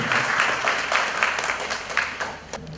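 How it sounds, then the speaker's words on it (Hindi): Audience applause for the chief guest, Shri Santosh Gangwar, at an evening tribute event honouring Atal ji; steady, dense clapping from a crowd that holds fairly even throughout before thinning slightly at the end. "एक बार जोरदार तालियां और इनका आशीर्वाद।"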